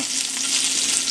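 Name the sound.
shrimp frying in butter and olive oil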